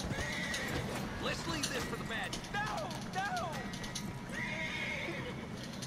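Horse in the video game Red Dead Online, whinnying several times over steady clip-clop of hooves, with a faint voice underneath.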